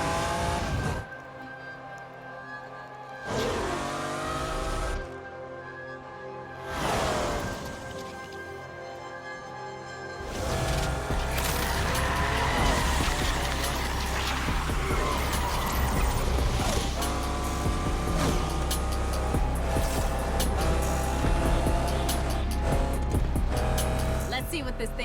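A car in Need for Speed Unbound floors it from a launch, its engine roaring up loud and steady through the gears after the first ten seconds, with voices talking over the start.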